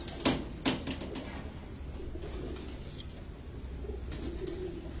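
Pigeons coo softly and continuously nearby, with two sharp bursts of wing flapping near the start and another flutter later.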